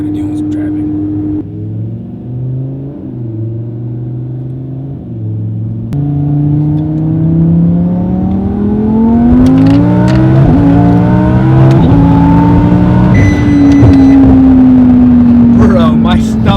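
A car fitted with a Stage 2 twin turbo package accelerates hard through the gears, loud engine tone climbing with each pull, dropping at shifts and rising again, with people talking over it.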